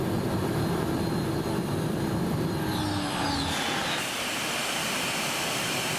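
Turbine-powered modified pulling tractor running a track pull at a Eurocup event in Denmark, heard onboard as a loud, continuous jet-like roar with a whining tone that shifts and fades partway through, no voices.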